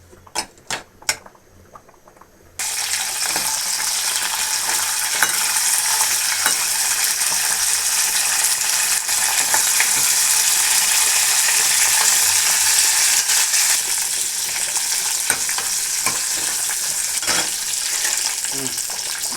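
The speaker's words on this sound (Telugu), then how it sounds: "ఈ విధంగా స్టవ్ వెలిగించి వెల్లుల్లి, కరివేపాకు వేసుకున్నాను. కొంచెం ఆయిల్ వేసుకున్నాను." Garlic and curry leaves frying in oil on a stove: a few faint clatters, then a sudden loud, steady sizzle that fills the rest of the clip with light crackling, close and uninterrupted, with no talk.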